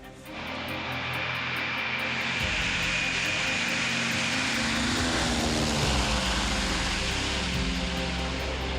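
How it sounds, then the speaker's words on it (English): A World War II era propeller plane takes off, its engines building to a loud, steady roar that fills the whole stretch, heard from inside near the open mid-gunner section. "Taking off in this plane is a real rush for me"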